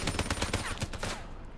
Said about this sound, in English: I guess I was shooting around him.